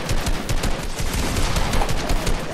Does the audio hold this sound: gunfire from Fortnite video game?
yes